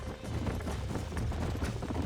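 Horse hooves clip-clop steadily in a Red Dead Redemption game scene, a continuous near rhythm of several horses moving at pace under a constant dense background.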